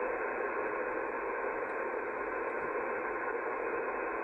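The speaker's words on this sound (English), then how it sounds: "There's that interference." Shortwave band noise on an SDRPlay RSP1A receiver scanning 11 to 12 MHz, a steady, unbroken hiss of radio static and interference at moderate level with no voices.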